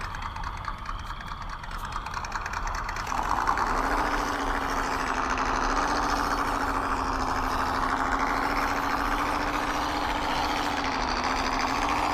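Car engine during a test drive on rims, a steady droning hum that rises in pitch and settles into a constant run, moderately loud with no talk.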